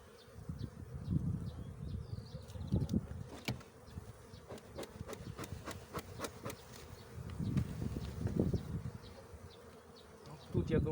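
Honeybees buzzing around an open hive during an early spring inspection, with brood frames lifted out; a steady low drone swells and fades in waves, with individual bees flying close past.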